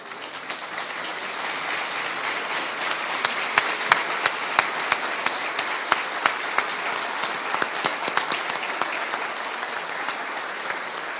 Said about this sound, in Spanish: hacer que ustedes se pongan de pie de nuevo a darle un aplauso al coronel Baños